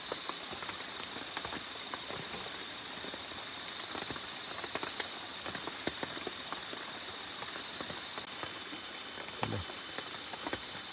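Steady rain patters through a forest during a wet-season hunting trip for squirrels and birds, a dense continuous hiss of drops on leaves with scattered sharper taps, no voices.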